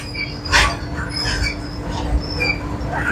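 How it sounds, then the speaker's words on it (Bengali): A train rolls into Nagpur station with a steady rumble, squealing wheels and metallic screeches, plus faint voices in the background. "এই মুহূর্তে ট্রেন এখন নাগপুর স্টেশনে ঢুকছে।"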